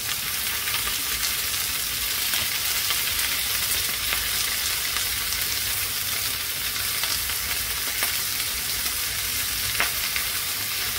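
Squid frying in hot cooking oil, a steady, dense sizzle with crackling pops that holds evenly close by throughout, with no voices.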